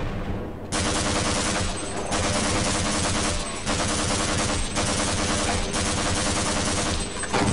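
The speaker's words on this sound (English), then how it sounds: "these MP5s are shooting a lot more rapidly and a lot more accurately than I remember" Rapid MP5 automatic fire in the video game Half-Life, a dense, continuous rattle of shots broken only by a few brief pauses, loud and steady throughout.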